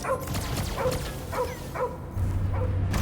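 A dog barks repeatedly in a Guardians of the Galaxy video game battle, sharp evenly spaced woofs over a dense background of game noise.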